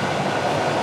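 Moscow metro subway train roaring along in a dense, steady rumble, loud and close, with no voices.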